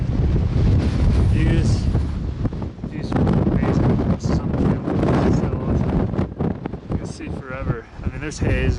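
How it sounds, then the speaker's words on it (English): Strong wind buffeting the microphone on the summit of Pikes Peak, loud gusty rumbling that rises and falls throughout, with a person talking under it. "Just a little bit windy up here."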